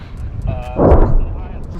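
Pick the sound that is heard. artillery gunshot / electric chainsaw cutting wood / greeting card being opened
artillery gunshot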